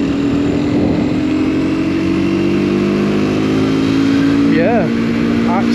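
Mondial Piega 125cc motorcycle accelerating up to road speed, its engine note rising steadily and loud and close, with a quick shift blip near the end; someone talks over it.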